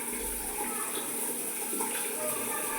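A shower runs steadily for a cat's bath, a continuous close hiss of spraying water with no break.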